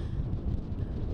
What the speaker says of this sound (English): Beverly and Carla, it is so windy and it's really dry right now.